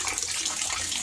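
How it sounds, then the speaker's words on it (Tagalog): Tap water runs steadily into a container, filling slowly under low pressure in a fourth-floor home, as a continuous close hiss and splash. "Nagpupuno pa tayo. Kasi mabagal ang pag-akyat ng tubig mula baba hanggang 4th floor."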